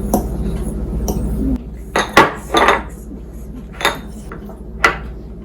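Spiced breadcrumbs with chili powder and garlic powder being mixed in a bowl, with a low hum, then several sharp clinks and scrapes of a utensil against the bowl, close and fairly loud.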